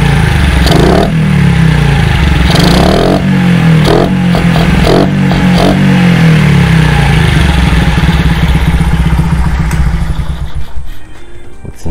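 A Honda Benly CD50 50cc motorcycle engine runs loudly and close up, a steady, busy putter with a few brief blips of revving throughout.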